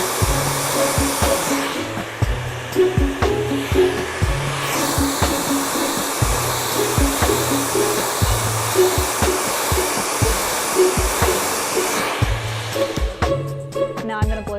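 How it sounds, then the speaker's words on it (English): A hair dryer blows hot air at close range while hair is styled for volume, a loud steady whoosh that shifts as it moves, with brief changes and faint handling noises. "I'm going to blow dry on hot, make sure that the product is completely dry."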